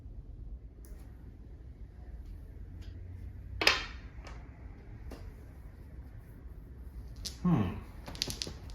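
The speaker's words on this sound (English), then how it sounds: "I'm going to shuffle 2 hidden blocks." Hidden blocks shuffled during a game of the Kelp board game give a few sharp clacks and rattles, with a burst near the middle and another near the end, over a quiet room with faint voices.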